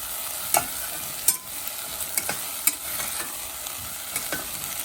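Masala sizzles and fries in oil in a pan, a soft steady crackle broken by a few sharp stirring scrapes and clicks, close up with no voices.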